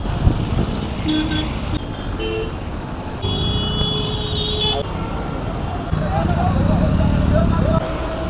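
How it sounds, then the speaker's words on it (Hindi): Busy morning street traffic in Gorakhpur, India, with a steady roar of passing vehicles and several short car horn toots and honks, voices talking nearby over the din. "अभी देखो 7 बजने वाला है तो पूरा कितना गाड़ी चलना चालू हो गया"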